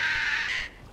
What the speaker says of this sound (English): Leave me alone, birds.